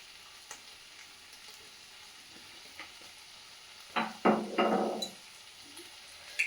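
Tomato sauce poured into a hot pan sets off a few short bursts of loud sizzling and spattering, with a quiet kitchen hiss and light clicks before and after.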